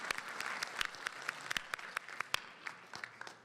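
A convention panel audience at PAX East 2020 claps in a short, moderately distant burst of applause in an echoing hall, with sharp individual claps standing out over the crowd.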